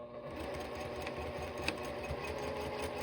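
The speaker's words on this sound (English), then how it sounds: "I'm going to back stitch at the beginning and the end." A sewing machine runs steadily, stitching fabric strips together for binding with a back stitch at each end, its rapid mechanical whir and needle rhythm continuous and close throughout, with no voice.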